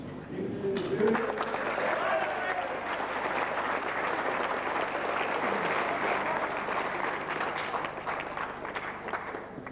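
A dense, steady wash of crowd applause fills the whole stretch, many hands clapping at once without a break, fairly loud and even.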